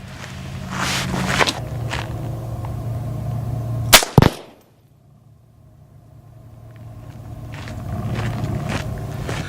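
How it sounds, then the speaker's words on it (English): A single sharp crack from a Savage A17 rifle chambered in 17 HMR with a Boyd stock, fired at 25 yards outdoors, stands out over steady background rumble and a passing car, then ambient noise slowly returns. "next we're using the Savage A17 with chambered in 17 HMR with the stock by Boyd. Again, we're shooting at 25 yards"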